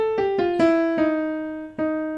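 The opening notes of the original Star Trek theme, a rising minor seventh leap played on a keyboard as a short run of struck notes, then a final held note that rings out clearly with no talking.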